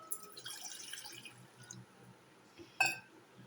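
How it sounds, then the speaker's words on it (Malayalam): A cup of water poured into a cooking pan: quiet, close trickling and splashing at the start, then a short bright clink near the end, all fairly faint with no talking. "1 കപ്പ് വെള്ളം ഒഴിക്കാം."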